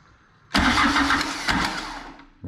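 International BTD6 bulldozer, a 5.5-ton machine, cranks and catches at about half a second, its diesel settling into a loud, steady idle for nearly two seconds before a brief dip and renewed surge.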